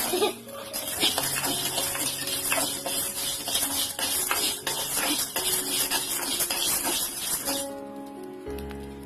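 Toor dal, red chillies, garlic and salt dry roasting in a pan give a steady, close patter of rattling and scraping stirring noises that stops abruptly just before the end.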